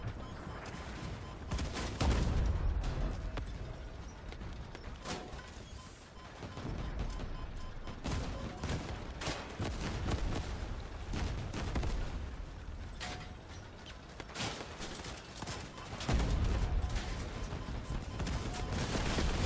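Vehicle combat in the game Crossout brings rapid auto cannon fire, bursts of sharp repeated shots and crashing impacts over mechanical clatter, loud and uneven with brief lulls between volleys.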